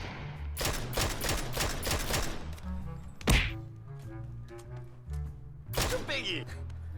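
Gunfire in the battle royale game PUBG, a quick burst of several sharp shots followed by a single loud crack and another short volley, mixed with in-game noise and a voice talking.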